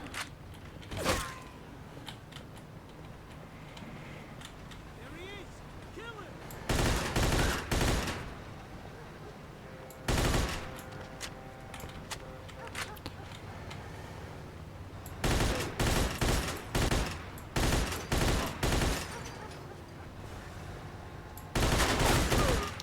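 Gunfire in the video game Mafia 2 comes in several loud bursts of rapid shots spread across the stretch, separated by quieter background ambience and mechanical creaks.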